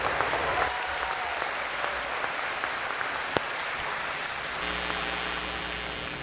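Sustained applause from a community college commencement audience, steady and fairly loud throughout with a brief sharp clap partway, then continuing at a slightly different level toward the end.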